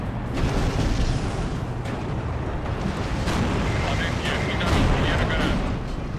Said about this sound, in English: We're already taking fire from multiple positions.